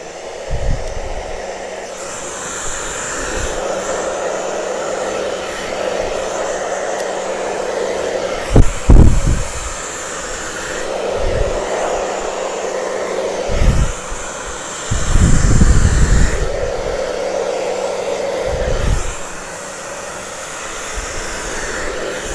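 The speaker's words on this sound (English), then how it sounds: "So I'm going to turn on the blow dryer and do it right now." A hair dryer blows with a steady whooshing hum, switching on and off repeatedly, interrupted by a few brief handling knocks.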